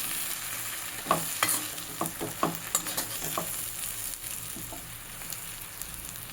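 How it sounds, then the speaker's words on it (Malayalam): Bread upma is stirred in a pan: a soft, steady sizzle runs under a string of distinct scraping and clacking stir strokes that come close together early on, then thin out and fade. "നമുക്ക് നല്ലപോലെ ഇളക്കി കൊടുക്കാം കേട്ടോ"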